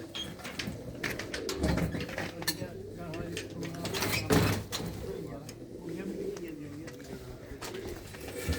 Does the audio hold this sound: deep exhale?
no